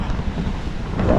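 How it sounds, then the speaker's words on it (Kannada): Strong wind buffets the microphone at seaside Bekal Fort in Kerala, a steady loud roar with the surf churning underneath, rising slightly toward the end. "ಇಲ್ಲಿ ಕೆಳಗಡೆ ಬರ್ತಾ ಬರ್ತಾ ತುಂಬ ಗಾಳಿ ಬೀಸ್ತಾ ಇದೆ."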